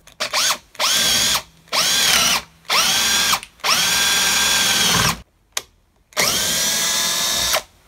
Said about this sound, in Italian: possiamo fare una prova di foratura con una punta per legno del 10